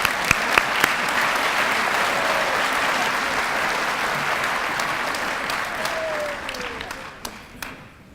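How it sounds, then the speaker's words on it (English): A crowd at a county scholarship awards ceremony gives a big round of applause, a thick, steady roar of clapping that fades out toward the end, with a few sharp individual claps. "Let's give them a big round of applause"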